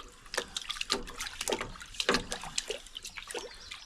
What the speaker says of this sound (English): Set it in the water and just clean it in the bucket.